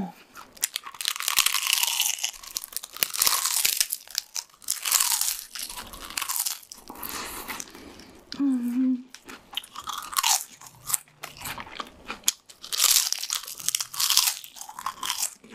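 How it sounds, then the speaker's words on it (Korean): Fried flower tempura being eaten up close, with repeated loud crisp crunches and chewing in bursts, separated by brief pauses and a short vocal hum. "일단 너무 이쁜 꽃튀김부터. 무슨 맛일지 너무 궁금해. 먹어볼게요."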